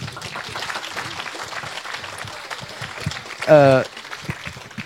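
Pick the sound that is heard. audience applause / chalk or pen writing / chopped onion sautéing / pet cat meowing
audience applause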